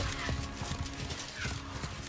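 Horse hooves clip-clopping steadily with a faint whinny in an animated samurai series, heard under a dense, busy soundtrack.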